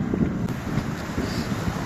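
A sailboat underway in light wind on a day trip off Brittany's coast bound for the island of Ouessant, with steady wind buffeting the microphone over a low churn of water along the hull, continuous and close, with no voices.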